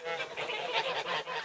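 Geese on a farm where they are plucked honk repeatedly in a dense, overlapping chorus, close and fairly loud with no pauses.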